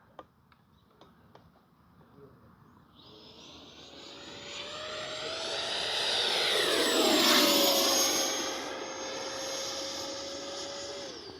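A Freewing 90mm T-45 Goshawk RC jet makes a low pass, its turbine-like whine rising into a loud doppler roar that peaks overhead and fades as it flies away, with a few faint ticks early on.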